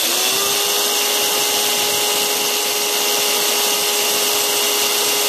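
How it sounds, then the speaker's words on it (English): A power drill whines steadily at a constant pitch, loud and close, grinding a hole through a metal Weber kettle grill without pause. "If you drill a hole in the kettle, drill from the inside out."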